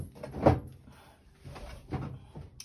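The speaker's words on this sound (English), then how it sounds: "oh, I can't get my drawer open because my chair's in the way" Drawer being opened at a desk, knocking against a chair that blocks it: a loud thump near the half-second mark, followed by fainter scraping and a second knock, close and without talk.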